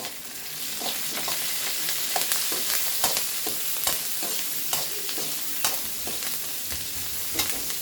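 Curry leaves dropped into hot oil alongside chilli and onion, crackling and sizzling steadily with sharp little pops and spatters over a continuous frying hiss, close up, with no talking.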